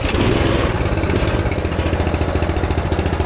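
Mega Moto 212cc mini bike engine running on propane, a loud, close, steady chugging drone with a fast, even pulse throughout.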